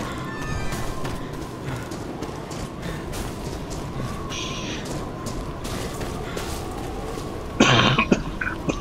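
A man coughs while he has a lingering cold. Short, sharp coughs and throat clearing come at intervals over a low, steady background, with a louder burst near the end.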